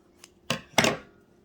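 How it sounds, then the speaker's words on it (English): Scissors snip through knitting yarn beside a 22-pin knitting machine project: a faint tick followed by two quick, crisp close snips within a second, with no talk. "Then we just pull and snip."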